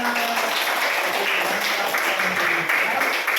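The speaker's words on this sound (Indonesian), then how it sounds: "Oke, tepuk tangan." Applause from a class or church gathering: steady, dense hand clapping from a group that fills the whole clip at an even level, with no talk over it.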